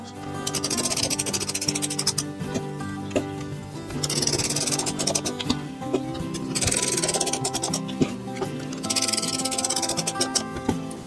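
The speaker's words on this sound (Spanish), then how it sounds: "voy a poner los tornillos" Power supply being screwed into a wooden drawer unit converted into a PC gamer tower, with repeated bursts of whirring driver noise and scraping, loud and close, alternating with brief quieter pauses.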